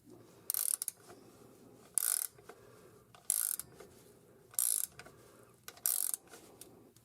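Wrench ratcheting a seal puller tool on a Turbo 400 transmission shift shaft in a 1966 Tempest, five short bursts of clicking at steady intervals with quiet gaps between.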